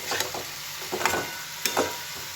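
Spicy fish curry stir-fried in a pan, a low sizzle punctuated by three or four distinct scraping stirs, close and with no talking.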